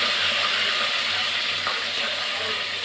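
Onion and curry leaves frying in a pan, a steady broadband sizzle and crackle held close and even throughout, with no voices over it.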